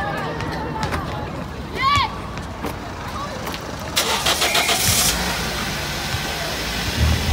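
A car engine cranks and catches around the middle, then runs on in the background, with a bird chirping briefly before it and a voice nearby.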